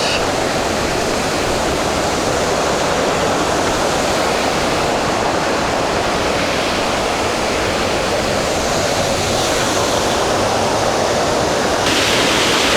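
Balentimol Falls, a waterfall in Hungduan, Ifugao, roars as a loud, constant broadband rush of falling water, close and unbroken, with no talking over it.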